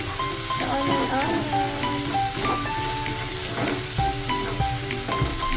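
Garlic and onion sizzle and fry in a pan for squid adobo, a loud steady crackle with stirring clatter and scraping, with voices and background sounds mixed in.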